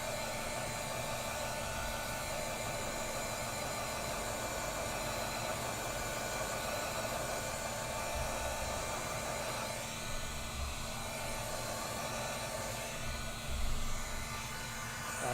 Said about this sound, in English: And we're going to heat set this.